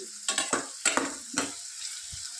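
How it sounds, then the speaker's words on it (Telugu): Onions frying in hot oil in a home kitchen for chicken roast, a steady sizzle broken by a few sharp stirring scrapes and clatters, close and fairly quiet with no talk. "సో ఆనియన్స్ బాగా మంచి బ్రౌన్ కలర్లో వచ్చేంత వరకు ఫ్రై చేసుకోవాలి"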